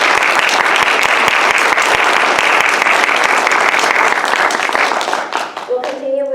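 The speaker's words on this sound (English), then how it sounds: "One last round of applause for her." Loud, dense applause from a large audience at an International Women's Day celebration, sustained for several seconds before thinning out near the end as a voice begins.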